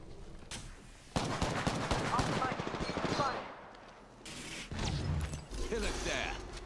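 Bursts of gunfire from Apex Legends, loud and close, with rapid strings of shots separated by short pauses, mixed with game effects and voiced in-game callouts.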